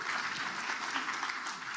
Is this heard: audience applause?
yes